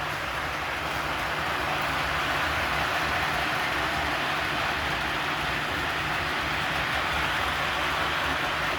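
A steady, continuous whirring rumble of an O scale Lionel LionChief Back to the Future III model train running nonstop, even and fairly close, with a hissy rattle and no talking.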